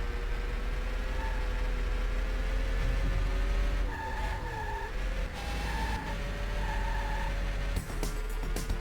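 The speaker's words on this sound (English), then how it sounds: "if you hear the tire screeching, you're turning too hard." Tires squeal in short, intermittent bursts during hard turns in the Ace Driver arcade racing game, heard over a constant engine drone.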